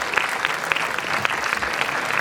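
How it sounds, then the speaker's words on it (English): An audience at a leadership and innovation symposium claps in a strong round of applause. The sound is loud, dense and sustained, with individual claps standing out near the mic and no talking. "Can we have a big round of applause?"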